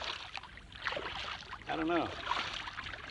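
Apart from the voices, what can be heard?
kayak being paddled on water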